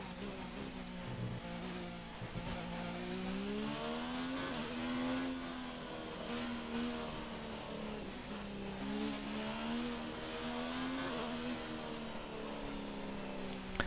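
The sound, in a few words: Formula 1 car engine in F1 2019 video game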